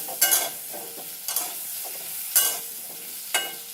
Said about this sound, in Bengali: এটাকে আমি আলুর সাথে মিশিয়ে ঢাকা দিয়ে আমি একদম হালকা আঁচে ভেজে নেব।